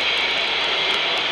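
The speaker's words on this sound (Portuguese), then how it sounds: "Aqui estamos acionando o motor" An electric motor on an electromagnetic starter panel hums steadily and loudly for the whole stretch, a continuous close whine with no pauses and no voices.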